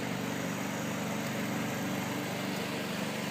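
A homemade rotary generator engine runs steadily at close range, a continuous even drone with a light mechanical clatter and no speech over it.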